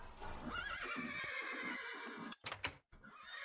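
Dark, black horse from the Minecraft Mo'Creatures mod neighing, a loud wavering whinny that rises and trails off, followed by a few sharp clicks and brief hoof-like knocks.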